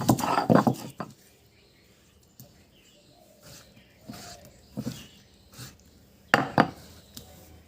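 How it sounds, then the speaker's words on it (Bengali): Ground guava leaf paste being scooped from a grinding vessel into a bowl, with a cluster of clattering, scraping knocks at first, then softer intermittent taps and scrapes, close by, without speech. "এবার আমি একটা বাটিতে কিন্তু পেয়ারা পাতাগুলো তুলে নেব।"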